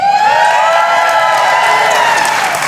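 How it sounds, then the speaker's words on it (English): A live podcast audience on the Isle of Man cheers loudly and steadily for about three seconds, a dense sustained roar with whoops and shouts at close range. "I honestly think they deserve another cheer."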